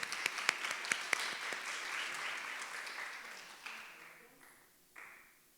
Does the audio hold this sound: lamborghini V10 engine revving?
no